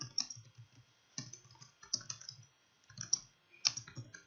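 Short bursts of typing on a computer keyboard during a coding tutorial, crisp clicks in separate clusters with quiet pauses between.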